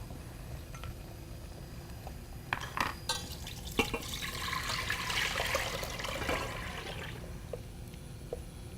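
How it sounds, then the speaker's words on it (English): Milk pours steadily into a metal pot for a few seconds, framed by clinks and knocks of the container against the rim. "We're going to go ahead and pour it into the pot."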